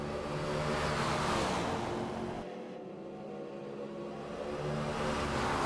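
Corvette race cars at Daytona in a racing game keep up a steady roar of engines. The noise dips briefly as the cars slide wide, then builds again, with no talk over it.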